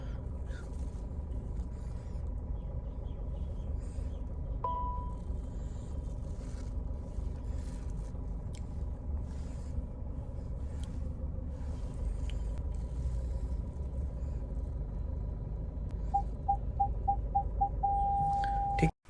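A Citroen C5 Aircross reverses under automatic park assist with a steady low cabin and engine hum, a brief tone near the middle, then a quickening run of parking-sensor beeps that merges into a continuous tone at the end.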